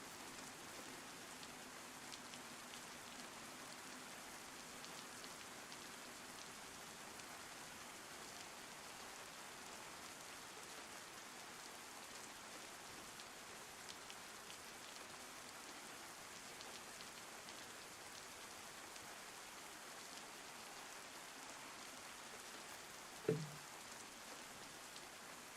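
Steady rain falls in the video game DayZ, an even hiss of drops on surfaces throughout, fairly faint and distant, with one brief sharp knock near the end and no voices.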